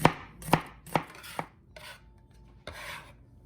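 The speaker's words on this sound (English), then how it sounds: "I can chop ingredients, move them to the side, and just keep chopping." An onion chopped with a knife on a large cutting board: four sharp, close blade strikes in a quick rhythm, then a softer rasping scrape and one more chop, loud and near with no talk.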